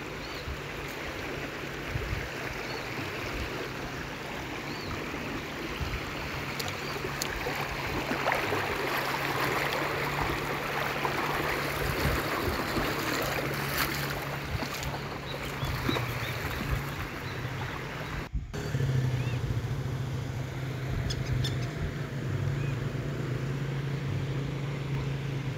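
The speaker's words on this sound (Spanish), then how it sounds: "Vamos a cruzar este arroyito." A small stream on a ranch flows in a steady, continuous wash of rushing water, close and fairly loud throughout, with a low hum underneath and no talking.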